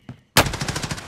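Video game gunfire on Rebirth Island in Call of Duty Warzone: a faint early shot, a short pause, then a loud, close burst of rapid automatic fire with steady rhythmic reports.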